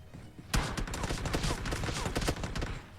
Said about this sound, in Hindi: इतने में ये पीछे से आके गोली चला देता है।